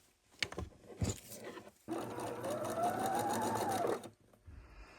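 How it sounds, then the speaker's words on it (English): Husqvarna Viking sewing machine stitching two quilt rows together, a steady whirring run of about two seconds after a few handling knocks and clicks, close and clear. "I am using the Husqvarna Viking today to sew"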